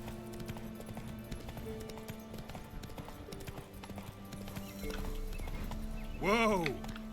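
Roach, a horse in The Witcher 3, galloping with rapid rhythmic hoofbeats under a speaking voice, ending in a loud close neigh.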